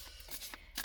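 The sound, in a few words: shuffling a tarot card deck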